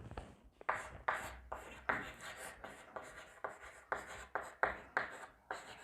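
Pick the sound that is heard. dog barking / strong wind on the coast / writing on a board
writing on a board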